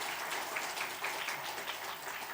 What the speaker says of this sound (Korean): 아도니아 우리 뜨거운 박수로 환영하겠습니다